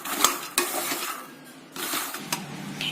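Masala makhana foxnuts being stirred and roasted in a pan. A utensil scrapes and rattles the dry seeds against the metal in uneven bursts with short pauses, close by, with a faint background hiss and no talking.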